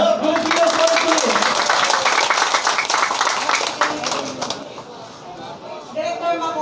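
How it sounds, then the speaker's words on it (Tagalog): Crowd clapping loudly for the Health Pilipinas Party at a political assembly, a dense burst of many hands that gradually thins and fades, with voices talking over it and some cheering near the end. "Kaya malakas na palakpak para sa Health Pilipinas Party!"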